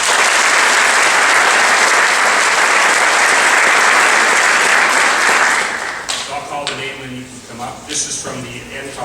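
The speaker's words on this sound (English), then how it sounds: "Let's give a round of applause to all these people who are giving scholarships out." Loud, dense applause for scholarship donors fills a high school senior awards ceremony for about six seconds, then fades quickly as a voice starts speaking over the last scattered claps.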